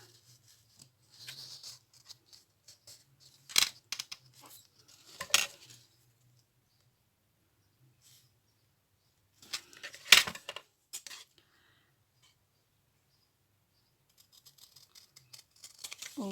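Scissors snip paper for a junk journal in a few sparse bursts of short, close cuts and rustles separated by silent gaps.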